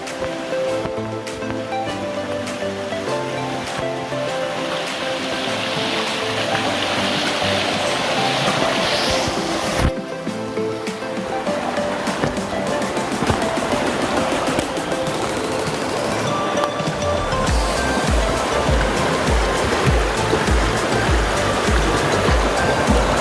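Steady rushing flow of a clear mountain stream in a valley, continuous broadband wash heard up close, with a brief knock partway through and rougher, louder churning toward the end.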